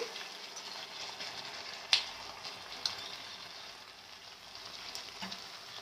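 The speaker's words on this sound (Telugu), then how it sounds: "ఇందులోకి నేను ఇందాక మనం పట్టుకున్నాం కదా అల్లం పేస్ట్ అంతా వేసేస్తున్నాను" Ginger paste goes into chicken frying in a pan, giving a steady soft sizzle with a couple of sharp clinks from a utensil against the pan, faint and close, with no talk.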